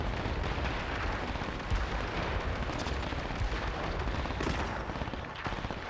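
Muffled gunfire and explosive thuds from the video game Warframe, enemies shooting at Vombalists during a Tusk Ballista challenge, rumble continuously at moderate level with no clear pauses.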